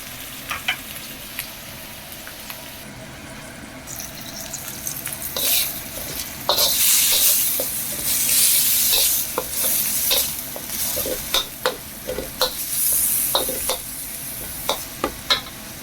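Bagoong alamang shrimp paste with santol cooking in a pan gives a soft continuous sizzle, overlaid by repeated scraping and clinking stirring strokes that grow busier partway through, with no talking.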